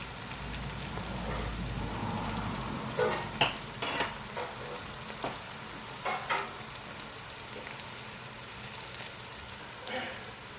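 Onions frying for chicken biryani, a steady broadband sizzle and crackle from the pan with a few louder clattering stirs, close up, with no voices over it.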